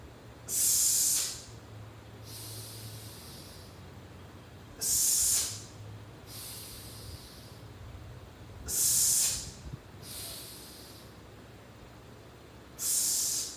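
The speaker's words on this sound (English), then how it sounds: "Exhale, press." During a bench press, four forceful breaths come in a slow, regular rhythm, each a sharp, hissing burst close to the mic, followed by a softer, longer breath. The setting is otherwise quiet and nobody talks.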